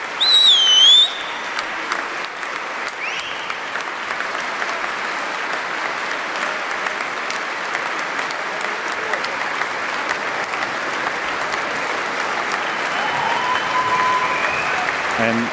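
Sustained, loud applause from a concert audience for an orchestra at the National Youth Orchestra (NSO) 2011 encore, a dense even roar of clapping throughout with a brief whistle near the start.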